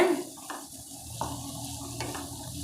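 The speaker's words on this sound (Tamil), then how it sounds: "நல்லா வதக்கிக்கலாம்" Beans, carrot and green peas are stir-fried in a pan, giving a faint, low sizzle. A spoon scrapes and taps against the pan a few times at uneven intervals, and no voices are heard.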